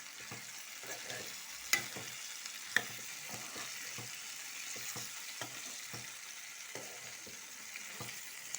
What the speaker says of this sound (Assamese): ইফালে আৰু আলু আৰু ছজনাখিনি অকণমান সিজিব লৈছে